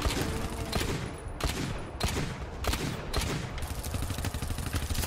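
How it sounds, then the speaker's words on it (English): Automated turret gunfire in the video game GTFO, a continuous dense rattle of rapid shots with louder bursts punctuating the barrage throughout. "Are you ready to open fire? I'm ready for a headshot."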